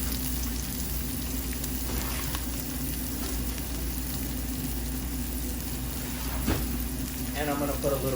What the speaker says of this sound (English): So I got some oil, this is preheated. I'm gonna put the onions and peppers in there.